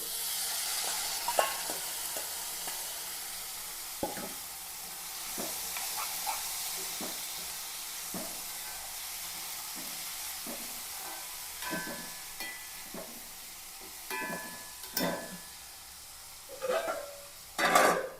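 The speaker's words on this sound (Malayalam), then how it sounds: "ഇതിലേക്ക് ഒരു 5-6 ചെമ്മീനിട്ട് കൊടുക്കാം. അച്ചിങ്ങ ഇട്ട് കൊടുക്കാം." Prawns and long beans fry in a pan with a steady sizzle, while a utensil stirs and scrapes in repeated short strokes at close range. No one speaks.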